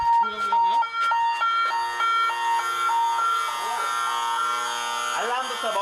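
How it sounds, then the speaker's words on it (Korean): An electronic alarm rings loudly at an eel farm, repeating a shrill two-tone beep pattern, with warbling swoops toward the end. "집안이 떠나가라고 울리는 알람음"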